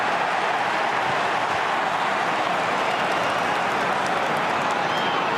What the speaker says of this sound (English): It's been a while since the Kangaroo fans have made such a noise